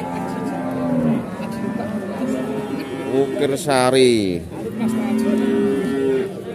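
Cattle from the Gunung Kendeng area moo loudly nearby at a livestock market in Pati, Indonesia, one long rising bellow standing out among lower lowing, with people talking in the background.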